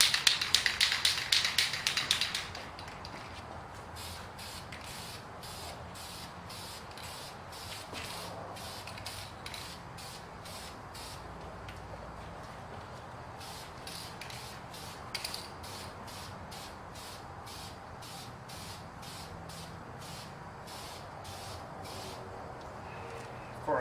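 Second coat of spray paint going onto Hella horns, a close hissing burst at the start, then a quieter stretch of rapid rhythmic tapping and light mechanical clicking under a faint background hiss.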